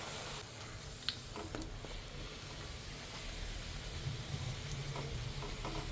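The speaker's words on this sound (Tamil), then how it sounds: "மேலே எடுத்து ஊற்றிக்கிட்டு" Palak puri fries in hot oil with a soft, steady sizzle and gentle bubbling, faint and continuous, broken by a few light clinks from a utensil and spoon.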